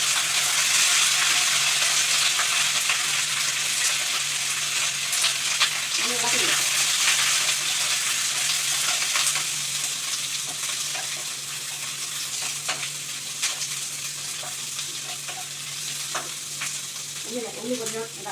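Dried chillies, curry leaves and sesame seeds fry in oil in a pan, making a continuous close sizzle and crackle with occasional stirring clinks and small pops.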